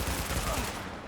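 Dense video game gunfire in a burst of rapid, overlapping shots that fills the short moment, loud and close before easing slightly at the end.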